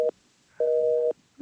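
Telephone busy signal in a radio play, two short steady electronic tone bursts with a gap between them, clear and isolated, followed by a faint brief sound at the end.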